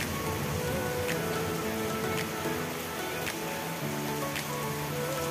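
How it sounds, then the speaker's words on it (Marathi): Steady heavy rain pouring on surfaces in a village, a dense continuous hiss close by with a few brief sharp cracks; no clear rolling thunder stands out. "बघा कसा पाऊस चाललाय, वर विजा कडकडत आहेत."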